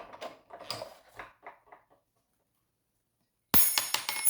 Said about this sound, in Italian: Ok, ho fatto cascare la fustella.